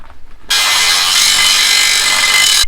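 Metal part being cut with a power saw during Jeep off-road recovery fabrication, a loud steady harsh grinding rasp starting after a brief quiet moment and running unbroken for about two seconds.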